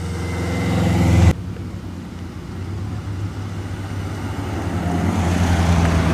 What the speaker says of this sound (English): Lovely exhaust notes off that one, the little 4-cylinder.